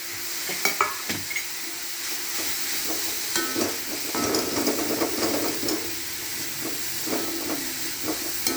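Greens being stir-fried with grated coconut in a pan, with a continuous close hiss and sizzle broken by scattered stirring scrapes and clicks, no voices.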